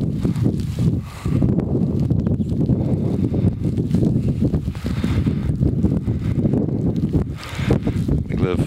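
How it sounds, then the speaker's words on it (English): Winter wind blowing off Lake Erie buffets the microphone on a snowy lakeside walk, a heavy, gusting low rumble that swells and dips throughout, loud and close, with faint rustling underneath. "The wind's blowing off the lake and blowing the snow straight into the lens."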